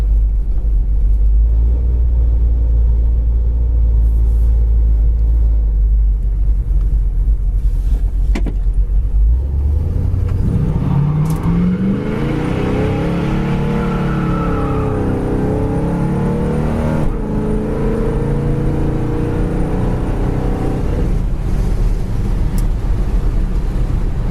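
1971 Chevrolet Chevelle Heavy Chevy driving, a loud, low engine rumble under heavy wind noise, then a steady, rising drone as the car picks up speed, with no voices.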